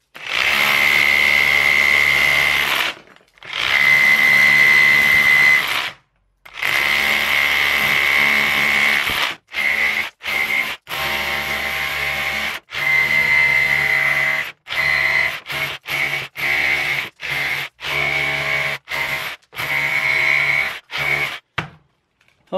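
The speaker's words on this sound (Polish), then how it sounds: "jak widać urządzenie całkiem sprawnie podkuwa w betonie" A Kaltmann Titanium cordless rotary hammer chisels into concrete in repeated loud bursts, long at first and then short and choppy, separated by brief silences.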